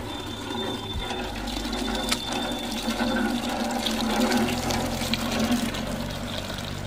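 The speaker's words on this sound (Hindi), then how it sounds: "मैं चापाकल पहुँच गई हूँ, तो मैं पानी भरती हूँ ब्रश करने के लिए" A hand pump gushes water into a bucket outdoors, a continuous rushing splash with faint rhythmic pumping knocks throughout, close and fairly loud.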